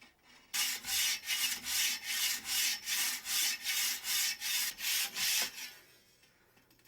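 Hand carving on a wood bear fetish figure, scraping excess from its horns: a close, steady series of rasping back-and-forth strokes, about two per second, running for several seconds before stopping, with no voices.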